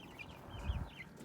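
A chicken held in someone's hands gives faint, soft clucks and murmurs during wing clipping, close but quiet, with a brief low handling thump.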